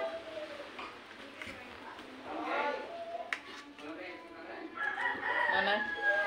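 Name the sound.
rooster crowing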